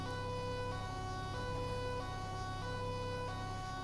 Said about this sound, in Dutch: Ik hoor een ambu, ja, ambu gespot.